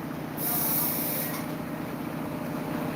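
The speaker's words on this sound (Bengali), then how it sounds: "এখানে এবার ঘরের ভেতরে জল ঢুকবে" Steady rushing and hissing of floodwater pouring in during heavy rain in Kolkata, a continuous close wash of noise with no speech.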